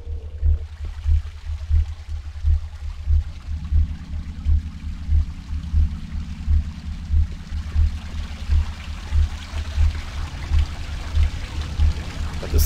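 Running water in the horror game Cry of Fear pours in a steady stream, joined by a rhythmic low throbbing pulse and a rising hum partway through, all moderately loud with no talk.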